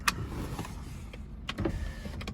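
A Volkswagen Passat's faulty electric window motor strains as it tries to lower the glass, a low steady whirring hum with faint clicks inside the car.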